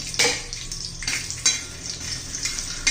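Peanuts crackle and sizzle in hot oil, with a few sharp scrapes of a spoon against the pan; no one speaks.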